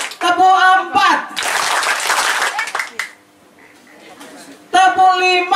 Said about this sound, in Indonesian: Kita belajar tepuk tangan dulu.